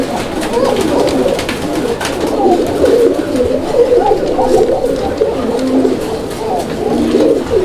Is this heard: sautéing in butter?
no